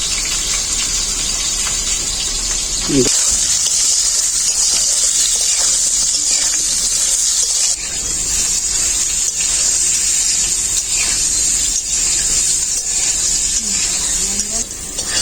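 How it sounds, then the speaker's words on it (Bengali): Steady, loud sizzling hiss of pointed gourd frying in hot oil, continuous for the whole stretch with a few faint clatters underneath. "তেলটা আমার খুব ভালো করে গরম হয়ে গেছে। পটলগুলো ভেজে নেব।"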